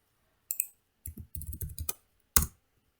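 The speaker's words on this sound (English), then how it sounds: "I'm typing here." Quiet, close clicks of keys typed on a computer keyboard, coming in short irregular bursts with gaps between them, ending in a single sharper keystroke.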